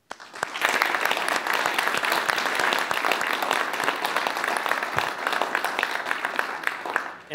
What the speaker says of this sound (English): join me in one last round of applause for everybody that participated today